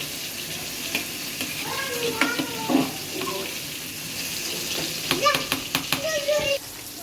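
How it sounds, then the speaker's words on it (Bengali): Cooked rice is reheated and fried in oil, giving a moderate sizzling hiss with clinks and scrapes of stirring, while voices chatter intermittently over the cooking. "এখন ওইখানে তেলের মধ্যে ভাত রান্না করতেছে।"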